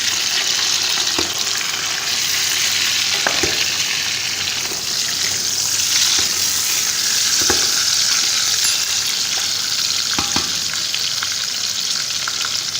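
Chicken frying with golden-browned onions for Saudi chicken kabsa, a loud continuous sizzle with irregular stirring scrapes and clacks of a spoon against the pan, close up and unaccompanied by talk.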